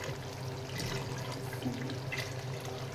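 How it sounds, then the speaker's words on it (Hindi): Water pours into a pan of simmering chicken kofta curry, a soft continuous splashing and gurgling at close range, fairly quiet, with no speech. "अब इसमें पानी ऐड करूँगी, बस इतना पानी डालूँगी इसमें"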